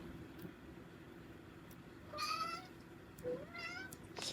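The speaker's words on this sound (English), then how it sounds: "He's sitting on the windowsill and meowing." A cat sitting on a windowsill meows three times, with two drawn-out, rising calls and a short final one, close and clear over a low steady background hum.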